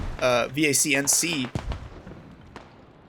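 Mortar rounds land in a Squad match, a couple of heavy booming thumps following a stretch of someone talking, then a fainter distant impact as the rumble trails off.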